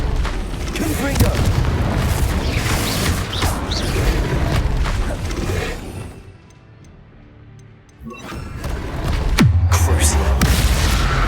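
Heavy booming blasts of the Confringo fire spell erupt in the video game Hogwarts Legacy, several loud impacts in succession, a brief lull with ticking, then another deep blast.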